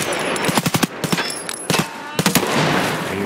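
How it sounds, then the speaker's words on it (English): Gunfire in the video game Escape from Tarkov, with quick clustered bursts of shots in several volleys over a few seconds, some close and sharp, and voices faintly underneath. "hear all these shots."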